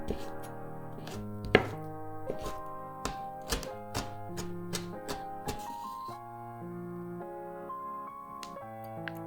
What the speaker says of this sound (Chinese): 把它稍微冲洗一下，挤干后切成小粒。